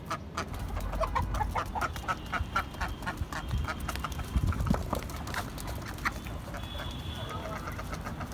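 Ducks kept at a rural home, dirty and due for a wash, quack and cluck steadily over a dense, noisy outdoor bed, with other fowl mixed in and a faint voice now and then.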